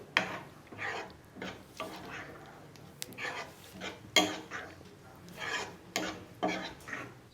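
Custard mixture for a pearl millet vermicelli dessert is stirred in a pan over a slow flame, giving rhythmic scraping strokes with occasional metallic clinks, close and moderately loud, repeating roughly every half second to second.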